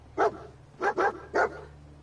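A dog in the Fallout 4 video game gives four short, clear barks: one single bark, then a quick pair, then one more. The barks are close and moderately loud, with no talk over them.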